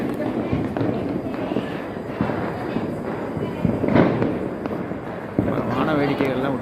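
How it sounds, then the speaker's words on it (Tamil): Fireworks set off during a temple festival procession with a golden chariot and an elephant: scattered bangs and thuds, one stronger burst midway, over a dense, steady crowd din with voices throughout. "வான வேடிக்கைகள்லாம் விட்டுட்ருக்காங்க."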